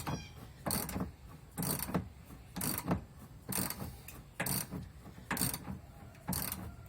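A ratchet wrench spins a lock nut off a sway bar end link on a 2009 Dodge Ram 2500, in about eight short, close clicking bursts evenly spaced and heard alone.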